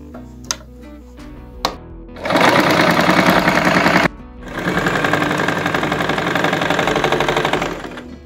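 Domestic sewing machine stitching fabric after a tension fix for looping thread, a few isolated clicks, then two sustained bursts of loud, steady mechanical whirring, close and alone.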